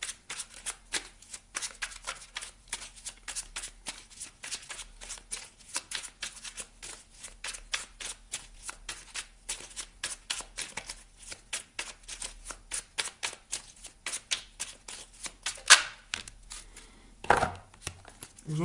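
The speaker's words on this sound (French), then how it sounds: "On va aller chercher une carte ici du petit oracle de Merlin." Oracle cards being shuffled before one is drawn, a long run of quick, dense riffling flutters at moderate level with no talk, ending in a few louder slaps and handling noises.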